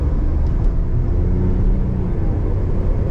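A Maserati Ghibli, its engine built in Maranello, drives on a road with a 40 mph limit. A steady, deep engine rumble runs close and continuous, with no voices over it.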